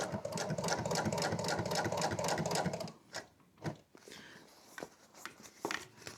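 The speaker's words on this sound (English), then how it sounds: "And then we're going to start a top stitch." A sewing machine running a top stitch, steady rapid rhythmic needle clatter for about three seconds, then stopping, followed by a few scattered clicks and handling knocks.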